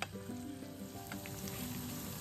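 Meat sizzles steadily while being stirred in a pan at a forest campsite, a continuous close frying hiss with faint scraping throughout and no voices.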